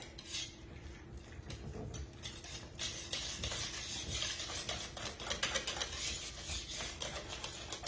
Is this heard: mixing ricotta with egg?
yes